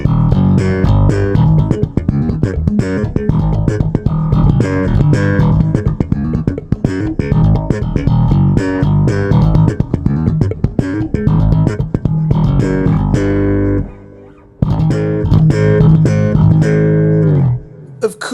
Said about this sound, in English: we can get a truly gritty sound like this.